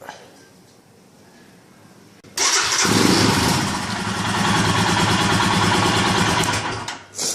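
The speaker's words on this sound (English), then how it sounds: "now you'll be able to start your bike." A Royal Enfield Himalayan motorcycle with faulty wiring, quiet at first until the engine cranks and catches suddenly. It then settles into a loud, close, steady running rumble with a short revving swell near the end.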